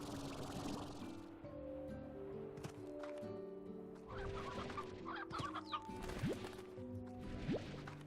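Painted hens in the Slime Rancher video game cluck repeatedly in a busy game soundscape, with steady tonal background music and scattered soft effects underneath.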